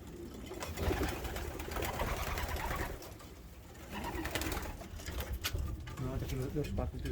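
Pigeons cooing in a racing-pigeon loft, soft repeated coos and bird calls at low level, while people talk close by over most of the passage.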